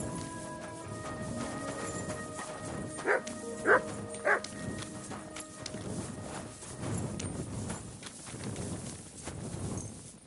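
Cartoon dog giving three quick yaps in a row, fairly clear over a busy background of music and effects, followed by muddled noise.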